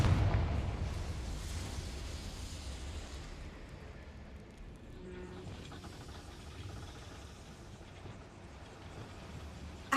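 A Confringo blasting spell explodes in a Harry Potter video game, opening with a loud booming burst that decays into a long rumbling, crackling tail over several seconds, with no voices present.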